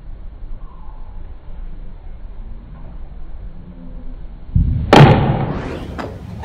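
A golf driver strikes a ball on a range with a single solid, slightly clunky impact, loud and close, followed by a brief ringing tail over steady outdoor background noise.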